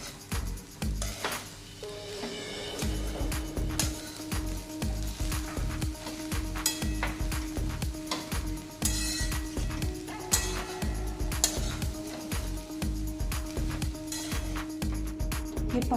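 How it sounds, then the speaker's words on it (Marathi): Grated fresh coconut roasts in a pan over medium heat, a spoon scraping and stirring in quick repeated strokes with a soft sizzle underneath, up close and steady. "थोडंसं भाजून घ्यायचा खीस"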